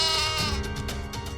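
A goat bleats in a quavering, drawn-out cry that stays close and loud through most of the stretch, with some louder layered noise behind it in a television drama scene.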